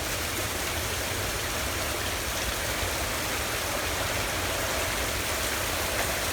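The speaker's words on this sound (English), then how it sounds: "Very heavy rain coming down right now." Very heavy thunderstorm rain pours down in a steady, dense roar, loud and close with no letup and no voices.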